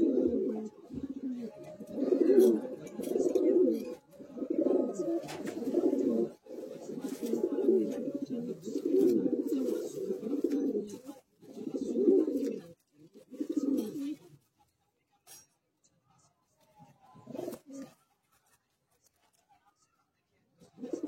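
Pigeons coo in a loft, low throaty calls repeating in steady bursts for about fourteen seconds, then mostly quiet with a couple of brief faint coos near the end.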